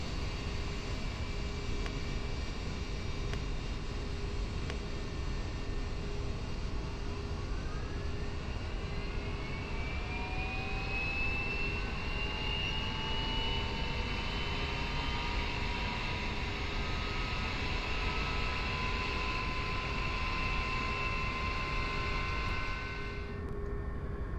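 A Hawker 4000 business jet engine spools up in the X-Plane 11 flight simulator, a rising whine climbing steadily over a constant low hum before cutting off abruptly at the end, with no talking.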